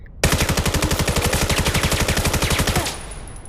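Rapid automatic gunfire in the VR shooter Vail VR, a loud, close burst of evenly spaced shots lasting about two and a half seconds, then stopping abruptly with a faint tail.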